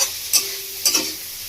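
Fish roe fritters fry in a pan with a steady hiss of sizzling oil, broken by two brief scraping bursts as they are stirred.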